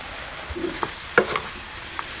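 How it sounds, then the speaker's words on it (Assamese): Tomatoes frying in a pan with salt, a little sugar, cloves, cardamom and cinnamon for butter chicken, giving a soft steady sizzle broken by a few light scraping stirs and clinks, close and quiet, with no talking. "বিলাহীখিনি ভাজ খাই আছে দেখিছেনে"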